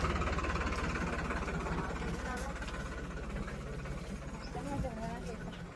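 A tractor engine runs with a steady, low rumbling drone that holds throughout, while people talk over it.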